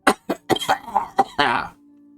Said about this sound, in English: Oh, now I'm coughing.